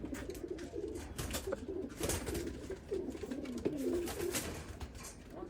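Pigeons in a breeder's loft coo softly and repeatedly, low burbling calls rising and falling in overlapping phrases at moderate distance, with faint background rustling and no speech.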